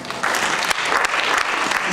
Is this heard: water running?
no